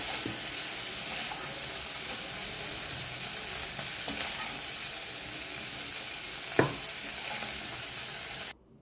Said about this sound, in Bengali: চিংড়ি মাছগুলো মোটামুটি ভালো করে ভেজে নিয়েছি